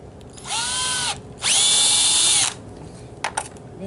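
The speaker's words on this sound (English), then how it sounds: "So we pre-drill first." A power drill pre-drilling holes whirs in two bursts, the second longer and louder, its pitch rising as it spins up, followed by a few clicks.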